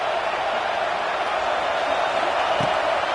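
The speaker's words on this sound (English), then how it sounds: "The Buckeye crowd alive on third down" An Ohio State Buckeye football crowd roars on third down, a dense, steady wall of cheering that holds at one loud level throughout with no break.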